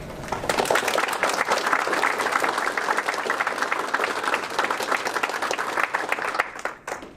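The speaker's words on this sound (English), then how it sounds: "do a big round of applause for Tom and Austin and all of the wildlife team" An audience at a Pint of Science talk gives a warm round of applause for a wildlife field team: loud, thick clapping that runs steadily before thinning and fading out near the end.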